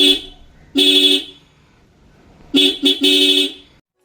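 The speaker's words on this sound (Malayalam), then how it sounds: "ഇതാണ്ട് ഹോണിൻ്റെ വർക്കിങ്." A motorcycle horn, wired through a horn interrupter relay to one horn of a dual-horn setup, sounds loud and close: a brief toot, a longer blast, a pause, then a quick stuttering double pulse running into a final blast.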